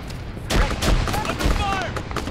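Gunfire in the Arma 3 video game, several loud overlapping bursts close by in quick succession, with voices mixed in.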